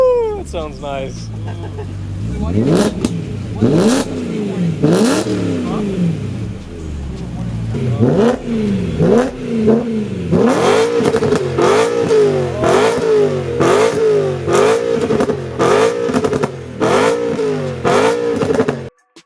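A BMW E92 M3 with its primary catalytic converters and resonator deleted revs hard over and over, sharp rising and falling exhaust bursts close by, with excited voices talking and cheering between and over the revs.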